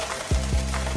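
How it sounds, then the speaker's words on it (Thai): A toy wooden kitchen set is used to stir milk and egg into dough, giving three quick, soft scraping swirls in a steady rhythm, close up and alone. "แล้วเราก็ทำการผสมค่ะปั่นปั่นปั่นแบบนี้เลย"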